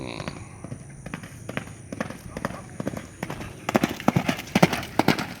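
Hooves of a racehorse in training thud on the track at a Sumedang horse-racing ground, a run of quick near clip-clop beats that grows louder and denser toward the end, with faint voices in the background.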